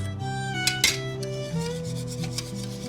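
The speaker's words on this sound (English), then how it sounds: "Now you just need to whisk." A flour mixture for ermine frosting is whisked as it thickens, giving steady rubbing, scraping strokes with a few sharper knocks, close by and with no talking.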